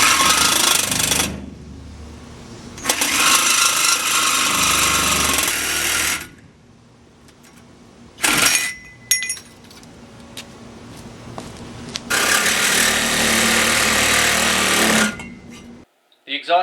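Exhaust pipes on a 1970 Chevy C10 dual exhaust setup are cut off near the front edge of the tire with a power tool, in several loud, harsh bursts of cutting separated by short quiet pauses.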